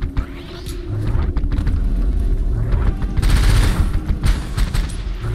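Enemy gunfire in the video game Rusted Moss from wheeled gun enemies, a dense loud rattle of rapid shots over rumbling low booms, building to a heavier burst near the end.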